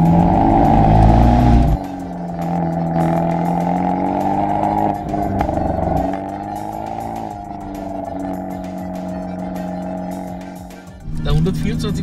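An Abarth 124 Spider engine idles with a deep, steady burbling exhaust, loud and close, with a brief throttle blip near the end.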